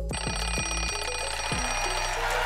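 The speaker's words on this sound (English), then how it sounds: "The game will begin on the sound of the alarm clock." An alarm clock bell rings steadily to open a game show round, a bright sustained metallic ring over a low rumbling background, with no speech.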